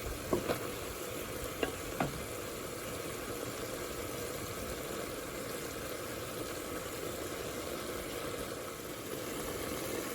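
Okra bhindi sizzles steadily in a frying pan for a home-style vegan salan, with a few sharp scrapes and clinks of stirring near the start, then a continuous close frying hiss with no talk.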